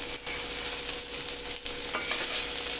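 Onions frying toward brown in a pan, a constant close sizzle with a few stirring scrapes breaking through, and no voices.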